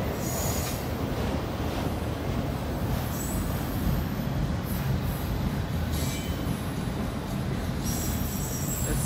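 A CSX freight train of autorack cars rolls steadily past with a continuous rumble, rattling cars and high metallic wheel squeal, loud and close throughout.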